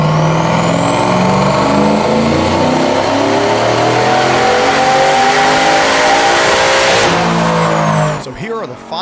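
A big-turbo four-wheel-drive Chevrolet Suburban engine screams loudly and close on a dyno, its pitch climbing steadily through a long full-throttle pull before dropping off sharply at the end.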